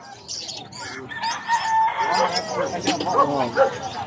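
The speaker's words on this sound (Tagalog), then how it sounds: "Mga manok na panabong nandito na lahat." Fighting roosters crow and hens cluck over a busy background of chatter and a barking dog at a market in Bucaue, several birds calling close by.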